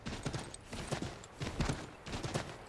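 Horse hooves clip-clop at a steady trot in Assassin's Creed, a run of close, clear strikes with some game background under them.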